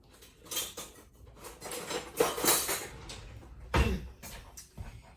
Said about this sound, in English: So let me get a spatula.